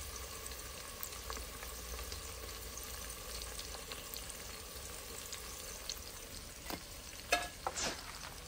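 Garlic and asafoetida frying in hot oil for a Maharashtrian mutton curry, a steady close sizzle with occasional stirring scrapes and a few sharper spatters near the end, no talking.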